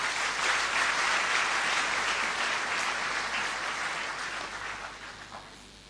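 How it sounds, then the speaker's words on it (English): Large audience applauding new graduates at a Nigerian Defence Academy convocation ceremony, dense sustained clapping in a big hall that stays strong, then slowly tapers off over several seconds. "Shall we applaud them one more time?"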